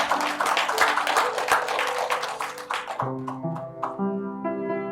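A church congregation claps together during a Sunday worship service, dense clapping that carries for about three seconds before fading into sustained music or singing.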